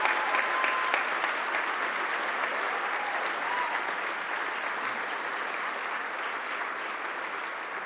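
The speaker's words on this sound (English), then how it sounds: "please join me in giving a big round of applause for our honoree, David Long." An audience at a gala roast honoring a chairman breaks into sustained, dense applause that fills the room evenly and fades only slightly over several seconds.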